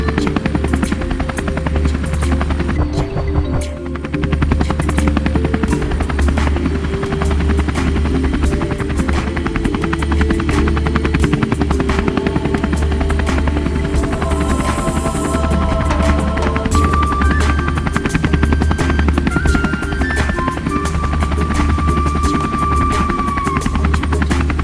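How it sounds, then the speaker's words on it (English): A small toy drone flies as a helicopter, giving a steady, close buzzing whir of spinning propellers that holds throughout with slight pitch shifts. "Let's get the chopper to lift the chest out."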